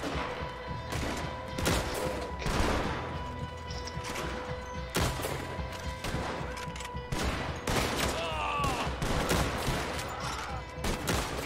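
Rifle and gun shots crack repeatedly in a Red Dead Redemption 2 online firefight, sharp bursts scattered across the clip with some near and some farther off, while a player talks.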